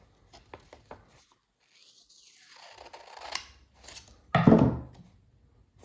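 Sharp scissors slicing through a sheet of 20-pound paper, giving a few quick snips and then a longer, louder cut that runs to the edge, close and alone without talk.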